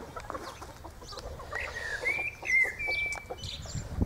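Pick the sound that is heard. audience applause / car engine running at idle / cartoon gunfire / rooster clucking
rooster clucking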